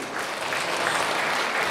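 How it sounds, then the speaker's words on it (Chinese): An audience at a Mother's Day celebration concert applauds a dance performance, giving dense, steady clapping that fills the hall evenly without pause. "再次掌声送给他"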